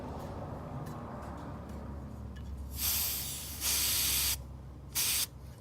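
Air hisses in three separate bursts as a valve stem is pressed on a Volkswagen's tyre, each burst loud and steady and lasting up to about a second, after low background rumble.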